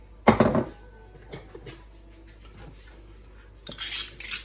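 Sliced chilies, smashed up for a fried chicken noodle dish, are scraped from a mortar into a bowl, with a loud clattering scrape at the start, then faint scattered taps and a brighter rattling scrape near the end.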